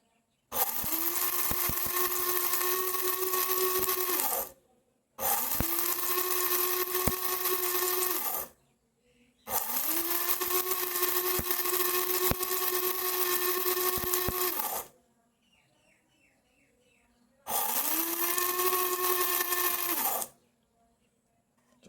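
A mini mixer grinder whirs loudly through four separate bursts of grinding rice, each a few seconds long, with short silent gaps between them and a steady high-pitched motor whine.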